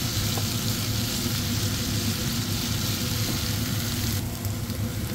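Onion, garlic and ginger frying in a pan for Indian keema give a loud, steady sizzle that runs unbroken from start to finish, with no voices.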